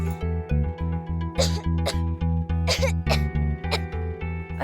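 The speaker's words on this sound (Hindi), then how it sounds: "अरे, इसे तो बहुत ज्यादा खांसी हो रही है।" A man coughs heavily in a rapid series of harsh, hacking bursts over a rhythmic pulsing machine hum in a factory setting.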